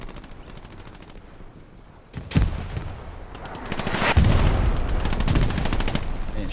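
Gunfire from the competitive WWII shooter Hell Let Loose: rapid semi- and fully automatic bursts crack loudly and continuously through a dense battlefield din, with no talk in the clip.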